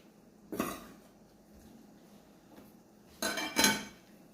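Semolina and flour dough is stirred in a bowl, making quiet, close scraping knocks: one soft scrape, a pause, then two quick scrapes near the end, alone and faint.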